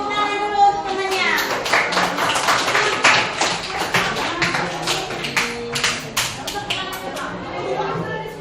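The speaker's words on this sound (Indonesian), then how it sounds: "Beri tepuk tangan dulu untuk temannya." Students in a junior high classroom clap for classmates, a dense run of sharp hand claps lasting several seconds with some children's voices mixed in underneath.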